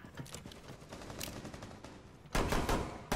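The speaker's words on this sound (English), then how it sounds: "can you not shoot me?" Friendly-fire gunshots from a teammate in Rainbow Six Siege Terrorist Hunt rattle in quick bursts, a steady stream of close shots followed by a sudden louder, denser volley near the end.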